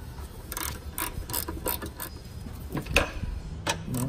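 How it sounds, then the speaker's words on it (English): Ratchet wrench tightening the bottom engine mount bolts on a 2012-2017 Ford Focus, several rhythmic clicking pulls with short pauses, close and clear, with no talking. "So now I'm gonna tighten up the bottom ones first."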